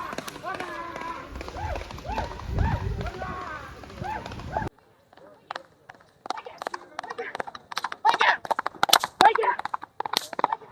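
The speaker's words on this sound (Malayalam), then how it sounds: "നല്ല സ്പീഡിൽ കുതിര വരുന്നുണ്ട്" Excited voices give way to a quick run of sharp hoof clops as a racehorse gallops on a hard road during a road horse race in Pollachi, loud and close, rushing past.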